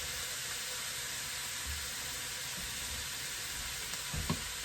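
Browned ground beef and chopped onion sizzle in a pan for taco soup, a soft, even hiss with a faint scrape of stirring near the end.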